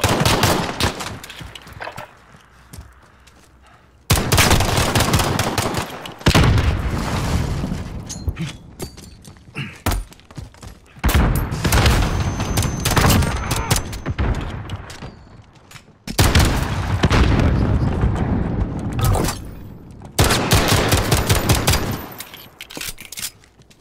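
A video game gunfight with loud, sustained bursts of rapid gunfire in long volleys, broken by short lulls, close and dense with shots.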